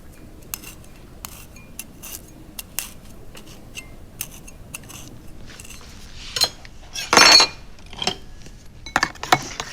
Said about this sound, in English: I want to make a few incisions so that the paste infuses the meat.